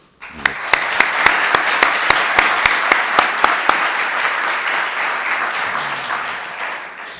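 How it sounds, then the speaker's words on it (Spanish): An auditorium audience applauds after a talk, starting with several distinct, evenly spaced loud claps before settling into a sustained, fuller round of clapping that slowly tapers at the end. "Pues entonces simplemente darte las gracias, Perú, Gracias. y un aplauso."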